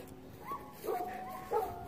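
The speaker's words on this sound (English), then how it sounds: "Stop barking at me," Dogs bark and yip behind a gate by a park, two short bursts at moderate distance, fairly faint, with no talking.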